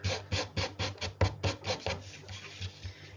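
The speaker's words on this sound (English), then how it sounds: "I'm just sanding very quickly." Quick, rhythmic rasping strokes of a sanding block on wood, about three per second, close and steady, gradually softening toward the end.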